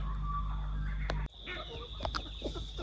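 Backyard chickens in an orchard give soft, scattered clucks close by, amid quiet outdoor ambience after a brief knock.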